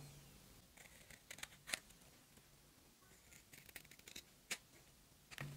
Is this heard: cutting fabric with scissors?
yes